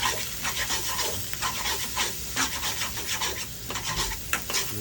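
Pad Thai rice noodles stir-fried with a thick sauce in a pan, heard as continuous close scraping and rubbing of a spatula with rhythmic strokes and soft sizzle, no talk.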